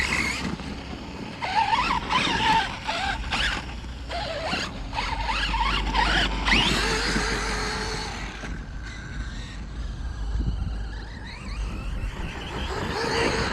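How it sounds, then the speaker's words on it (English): Redcat Kaiju RC monster truck driving over muddy ground, a whining electric motor revving and surging with rattling, scraping bursts, fairly close and continuous with no talking. "This truck is insane."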